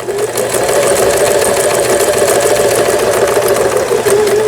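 A Home Doctor mini home sewing machine runs steadily, sewing a dense overlock stitch with the stitch length set to minus, giving a loud, close, fast and even mechanical whirring and clatter with no talk.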